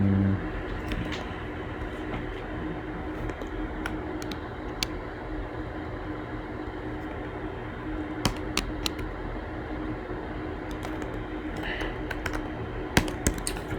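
Typing on a computer keyboard while entering a to-do item in a coding session, with scattered soft key clicks and a few sharper taps over a steady background hum and faint room noise.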